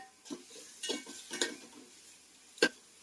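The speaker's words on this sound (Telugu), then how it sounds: "ఒకసారి బాగా కలబెట్టుకొని అడుగు మాడిపోకుండా కలబెట్టుకోవాలి" Food is stirred in a cooking pot in a village kitchen, a few scraping spoon strokes and one sharp clink against the metal, close and fairly quiet with gaps between.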